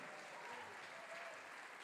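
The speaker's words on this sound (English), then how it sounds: "Give a round of applause." Jazz concert audience applauding steadily for a drummer, a dense, even wash of many hands clapping with no voices above it.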